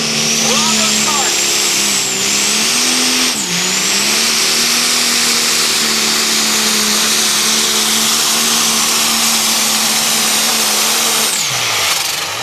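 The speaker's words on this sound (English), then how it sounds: "They're going to be bringing up the RPMs." A diesel pulling truck at a truck and tractor pull revs its engine up at the start of a pull: a loud, close mechanical roar that dips and climbs in pitch, then holds a strong steady drone.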